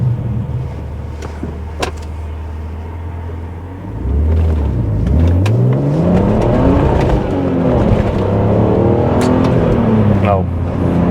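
A BMW E46 330ci fitted with headers and cats accelerating hard from a launch, starting with a steady idle and then a loud, close engine roar whose pitch climbs through the gears, with brief talk underneath.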